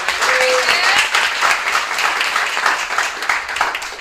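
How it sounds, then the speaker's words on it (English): A Toastmasters meeting audience applauds steadily, a dense, even wash of clapping that holds for the full few seconds, with a brief whistle-like tone near the start. "Let's give Katelyn another round of applause for her."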